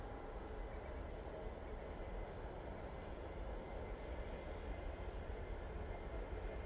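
A Ryanair airliner taking off from Manchester Airport, a steady distant engine rumble with a broad, even roar and no speech.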